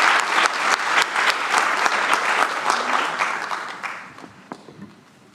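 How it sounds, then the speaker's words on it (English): Audience applause at an IT leaders certificate program graduation ceremony, loud and sustained crowd clapping that fades out toward the end. "Let's give Charlie a big round of applause"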